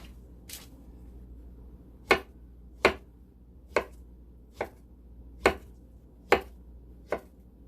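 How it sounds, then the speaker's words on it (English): Plantains chopped finely with a knife on a board: seven crisp, separate strikes spaced about a second apart, close and clear over a quiet background, with no talking. "then I'll start to chop them up really fine"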